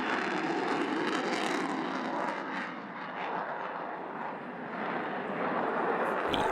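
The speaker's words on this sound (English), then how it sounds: "Following Zeus was the Typhoon display team of 29 Reserve Squadron Royal Air Force." An RAF Eurofighter Typhoon fast jet of 29 Reserve Squadron flies its display at the Royal International Air Tattoo 2015, a loud, steady roar that dips slightly midway and swells again.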